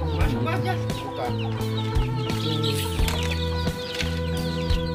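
Free-range village chickens cluck in a chorus on a farm, with repeated sharp clucks and calls close by over a steady background hum.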